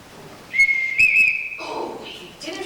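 A captain's whistle is blown in sharp, shrill bursts: a sustained high tone, then a warbling trill, then a second pattern of short calls, loud and close on a stage production.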